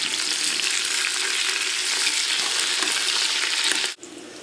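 Veal bones and mirepoix vegetables brown in a pan with a loud, dense, continuous sizzle and frying hiss, stirred now and then, cutting off abruptly just before the end.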